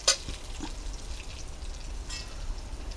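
Lentil dumplings (bori) frying with onion in a pan give a steady, soft sizzle with faint crackles throughout, fairly quiet and even, with no talking.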